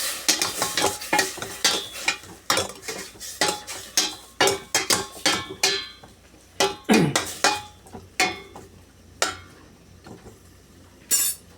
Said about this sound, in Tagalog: Okay, haluin natin ng kaunti.